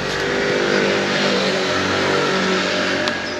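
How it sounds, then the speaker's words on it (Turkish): A car engine revving steadily near a caravan being fitted out, a loud, sustained mid-pitched roar heard close up with a faint tick near the end and no talking. "Gerçi motorun sesi daha çok gelmiştir."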